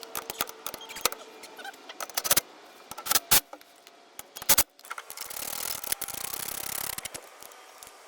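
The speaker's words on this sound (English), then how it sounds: "All right, now we can tighten everything up." Bolts are tightened on a CFMOTO UForce 1000 UTV while a SuperATV snow plow kit is fitted, with quick bursts of ratchet clicking and metallic tool clatter, close and intermittent, then a steadier stretch of rustling and working noise.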